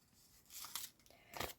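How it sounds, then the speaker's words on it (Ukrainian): A small paper surprise packet being ripped open by hand, two short rough tearing bursts close to the listener, separated by a brief pause, with no talking. "Відкриваємо, ну, точніше, розриваємо його"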